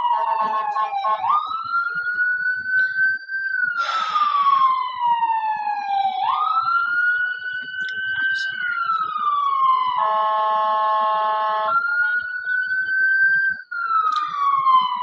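A loud police siren wails close by, sweeping up and down in long cycles and switching to rapid yelps, with brief horn blasts and faint voices underneath.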